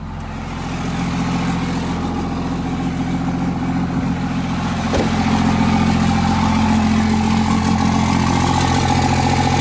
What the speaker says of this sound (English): we're going to fire the truck up now